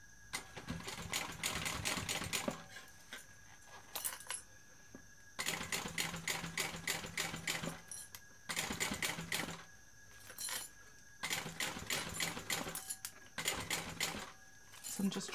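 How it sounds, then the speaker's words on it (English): A sewing machine stitches a seam on a BeHip 2.0 bag, running in steady bursts of rapid needle clatter separated by short pauses as the fabric is turned, close and moderately loud. "Now we're going to sew that on with the seam allowance given in the pattern"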